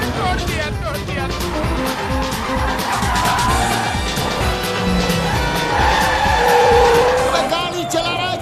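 A car is driven hard, with a loud, close engine roar, squealing tires and skidding running through the whole stretch. People talk and shout over the driving noise, and the action has a frantic, comic feel.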